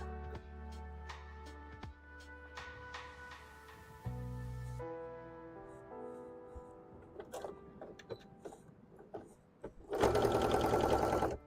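A sewing machine sews a Lucario-themed hat in short bursts, with soft clicks and handling sounds between runs and a loud, close stitching run near the end.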